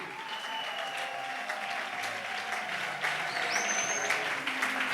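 A church congregation at a Sunday service applauds in sustained, dense clapping that fills the room, with scattered shouts of acclamation rising over it.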